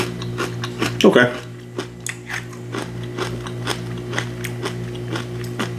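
Crunchy bites of Wheaties maple almond protein cereal being chewed up close, a sharp crunch burst followed by softer repeated chewing over steady background hum.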